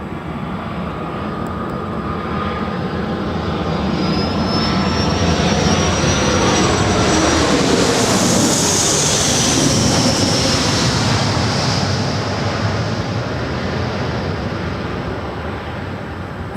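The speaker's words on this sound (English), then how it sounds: "that is Flexjet 461 coming in from SFO. It's a Gulfstream G450." A Gulfstream G450 business jet, Flexjet 461, comes in to land at LAX, its engine roar sustained and loud throughout, swelling to a whining peak midway before easing slightly as it passes.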